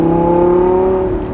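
Loud, close roar of a Lamborghini Gallardo Performante's naturally aspirated 5.2 liter V10 held at high revs, a strong steady harmonic tone that eases slightly toward the end, with no talk over it.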